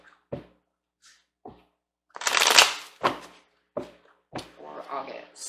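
Tarot cards shuffled close up in several separate bursts of riffling and slapping, with one longer riffle in the middle and short pauses between, and a voice speaking briefly alongside.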